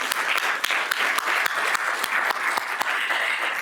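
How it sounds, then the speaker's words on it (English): An audience at a spring convocation claps in sustained, dense applause that stays loud and even throughout. "Let's give Administrative Affairs and their team a round of applause."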